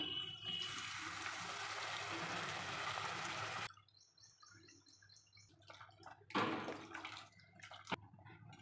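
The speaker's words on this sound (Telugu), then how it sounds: "ముందుగా నానబెట్టిన చింతపండు నుంచి చింతపండు రసం తీసుకొని పోసుకోవాలి" Tamarind juice pours into a pan of fried colocasia pieces for an egg curry, a steady splashing stream for about three seconds, followed by quieter drips and a few light kitchen knocks.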